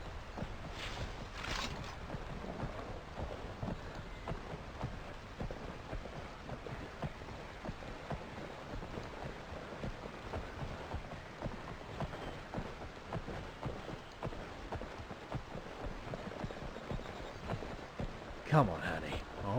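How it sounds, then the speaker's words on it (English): Rain falls steadily in the video game Skyrim, a dense constant hiss of drops that runs throughout, with a brief sharper sound near the end. "Cast one of those spells to protect us from the rain."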